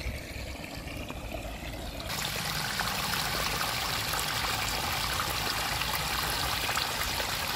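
Dirty drainage water pours from pipes into a riverbed, a steady rushing, gurgling flow that grows louder after a couple of seconds and continues without talk.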